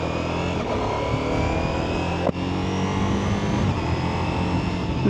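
A Ducati Multistrada V4 Rally motorcycle hums along at a steady engine drone while being ridden, with wind rush and one brief knock partway through, continuous and close with no voices.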